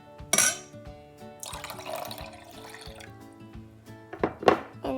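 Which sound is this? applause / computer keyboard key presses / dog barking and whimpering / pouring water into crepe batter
pouring water into crepe batter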